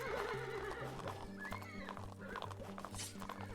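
A horse whinnies in the video game Blood & Iron, a high rising neigh amid farmland battle noise, with hoof clatter and a dense low musical and ambient bed.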